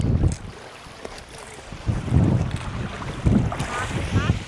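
Gusty wind by the sea at Seward, Alaska, buffeting the microphone in loud rumbling bursts over a background of water and surf, close and uneven.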